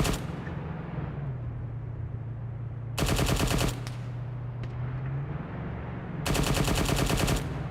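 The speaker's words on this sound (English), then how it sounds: "What are you shooting at through the hill?" Automatic weapons fire in the Arma 3 Antistasi mod comes in two loud, sustained bursts of rapid shots, separated by a low steady hum of game ambience.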